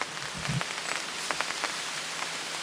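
Heavy rain and hail pour steadily onto a surface beside a fishing spot, a dense continuous hiss with scattered sharper drop impacts and a couple of low thuds early on.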